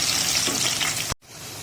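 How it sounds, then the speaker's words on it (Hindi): Onions fry in about a cup of hot oil for chicken nihari, a dense steady sizzle filling most of the moment before it cuts off abruptly into a quieter hiss. "मैंने 1 कप ऑयल डाला हुआ है और इसमें मैंने ये प्याज फ्राई कर लेनी है।"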